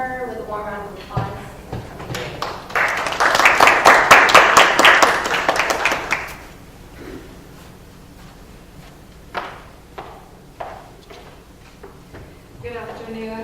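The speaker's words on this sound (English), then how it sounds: "if you guys would all welcome her with a warm round of applause" A warm round of applause from an audience at a Southern Methodist University talk, swelling into a dense burst of clapping before thinning to scattered claps and quiet room noise.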